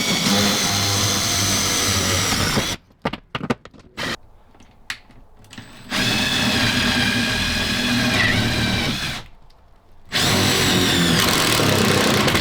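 A power drill driving through wood into metal while heavy wall panels are hung, loud bursts of grinding whir broken by short quiet gaps and a few clicks, close up with no talking.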